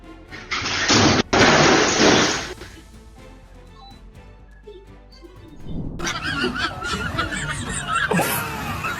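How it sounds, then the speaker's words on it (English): Loud bursts of broadband noise, then a dense chorus of clucking and squawking chickens close by, many birds calling at once. "Would you like to stand in the middle of a flock of chickens like this?"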